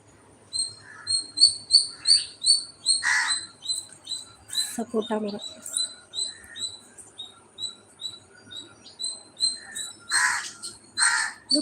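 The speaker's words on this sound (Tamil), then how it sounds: "காக்கா சுத்தம் குருவி சுத்தம் நிறைய மரம் செடி கொடிங்க இருக்கிற இடத்துல தான் இந்த சத்தம்லாம் கேட்டுகிட்டே இருக்கலாம்" Crows caw and sparrows chirp repeatedly among trees and garden plants, a steady run of near and mid-distance calls with someone talking briefly over them.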